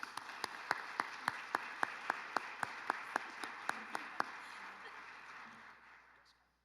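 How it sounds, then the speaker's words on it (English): Audience at a Valley View school board meeting applauds in recognition of honorees, a spread of steady claps with a few sharp, distinct hand claps standing out near the front before the sound tapers off. "So a round of applause."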